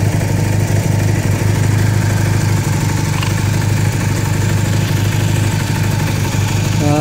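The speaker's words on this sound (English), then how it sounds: "So ignition on, let's fire the bike up" A Honda CB250 motorcycle engine idles steadily and loudly close by with an even, continuous mechanical rumble and no talking.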